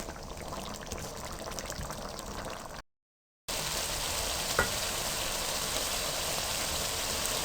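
Round gourd (tinda) and potato pieces fry in oil in an uncovered pan, giving a steady, even sizzle that cuts out briefly for a gap of silence, then picks up again, with one small sharp tick in the middle.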